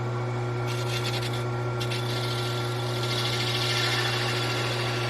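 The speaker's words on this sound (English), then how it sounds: "That's why they call it a spindle roughing gouge." A spindle roughing gouge cuts a wooden pear on a lathe, giving a continuous rough rasping and scraping over the motor's steady low hum, with short bursts of brighter chatter early on.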